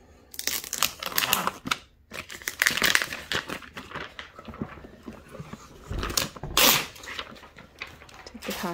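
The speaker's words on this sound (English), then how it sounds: "Take the packaging off" Plastic toy packaging from an LOL OMG Surprise doll set is pulled off by hand, loud close crinkling and crackling bursts with brief pauses between them.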